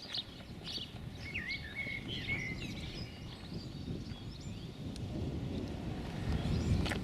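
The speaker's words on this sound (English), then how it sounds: "You can hear all the birds." Birdsong and chirping carry over steady wind noise on a quiet lane along the South West Coast Path between Portreath and St Ives, with several birds calling at moderate distance throughout.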